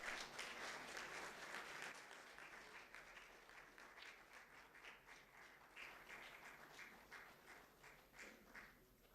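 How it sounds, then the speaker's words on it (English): Conference audience applause filling a hall, a loud, dense burst of clapping that slowly tapers across the clip, with scattered individual claps standing out toward the end. "A huge round of applause, ladies and gentlemen."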